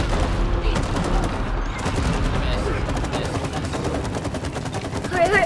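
Rapid bursts of gunfire from a shootout in It Takes Two, loud and dense with overlapping shots and occasional booms, running continuously while players talk excitedly over the top.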